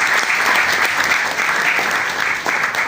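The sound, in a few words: round of applause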